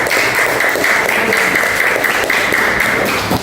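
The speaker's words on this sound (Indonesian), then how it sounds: "Tepuk tangan buat kelompok 1." A classroom of students applaud together, a loud, steady burst of clapping lasting several seconds without pause.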